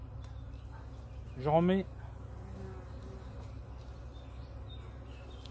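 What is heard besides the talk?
honeybees buzzing around hive frames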